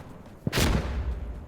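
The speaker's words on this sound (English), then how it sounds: "Sniper 2-round burst going on again." A single close, loud gunshot or very short two-round burst from a sniper rifle in the shooter game Insurgency: Sandstorm, a sharp crack followed by a broad booming tail that rings out for about a second.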